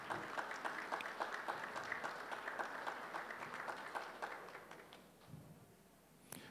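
An audience applauds at the Miss Samoa pageant in 2021, a steady, dense patter of clapping that fills most of the stretch and then thins out toward the end.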